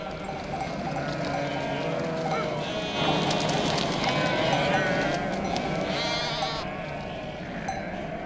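Domesticated sheep in the Middle Eastern desert bleat repeatedly, several overlapping calls rising from a steady flock murmur at moderate distance, with no voices over them.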